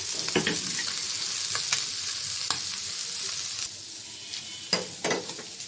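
Mixed fish frying in oil in a wok makes a continuous bright sizzle, with occasional sharp spatters and stirring scrapes close by.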